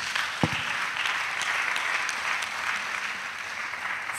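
A church congregation at a missionaries' retreat in Côte d'Ivoire breaks into sustained applause, a dense, even roar of many hands clapping with a single sharper knock near the start.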